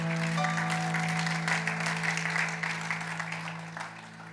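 Church congregation applauding during a Spanish-language worship service, steady broadband clapping throughout over a sustained low organ-like tone, fading slightly toward the end.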